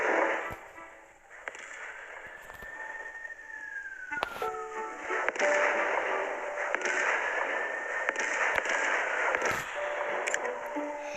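Bombs explode in the city-destruction game City Smash 2, with a few sharp blasts over whistling tones and a steady electronic background hum.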